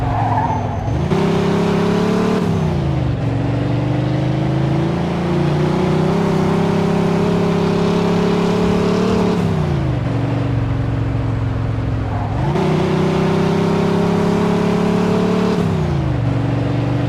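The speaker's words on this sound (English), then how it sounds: "Pursuit of a speeding vehicle." A speeding car in a Mafia 2 police chase, its engine roaring loud and close with repeated rev swells as gears shift, tires squealing through turns, continuous with no talk.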